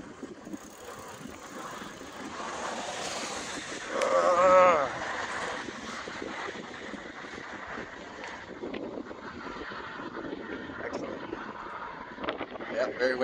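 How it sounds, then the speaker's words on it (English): Wind buffets the microphone in a continuous outdoor rumble on a high bridge to Pigeon Key, with a gust swelling midway and traffic and voices faintly beneath. "Very windy up here."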